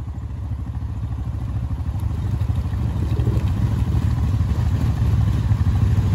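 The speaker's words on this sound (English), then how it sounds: "Still running? Is it idling, Brandon?" A 2020 Honda Rubicon ATV engine idles close by, with a rough chugging rumble and faint clatter that stays even throughout.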